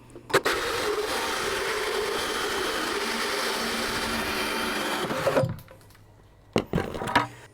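A power drill running in reverse whirs steadily for about five seconds, bites into a plastic container, then stops, followed by a couple of short clicks and brief bursts.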